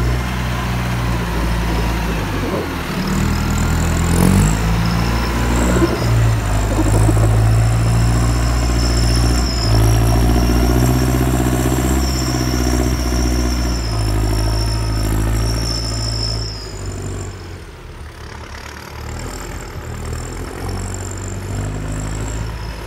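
Roller tractor engine idling and running steadily at a grass silage pit, a continuous low rumble close by with slight shifts in load and a brief dip near the end.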